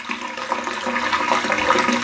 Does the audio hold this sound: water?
yes